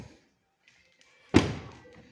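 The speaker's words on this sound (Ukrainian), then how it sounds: "Двері закриваються. Нормально, легенько." A single solid thud of a Tesla Model 3 car door shutting, loud and close, with a short fading rattle after; quiet before it.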